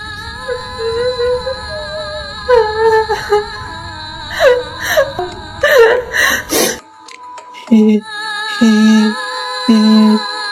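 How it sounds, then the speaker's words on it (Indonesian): A horror-style sound effect of a woman softly crying, with whimpering sobs and breathy moans over a sustained, eerie tonal drone that drops out near the end, leaving low, separate moans. "Beberapa menit kemudian terdengar suara perempuan menangis"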